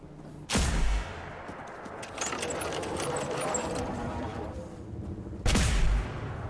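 Weapon fire in the video game Fallout 4, two loud, sharp gunshot blasts a few seconds apart with a rattling mechanical hum between them.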